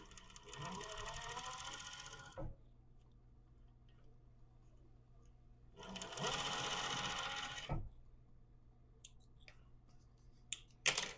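A sewing machine stitches a fabric patch in two bursts of fast, close mechanical whirring, separated by a quiet pause with faint clicks and handling sounds.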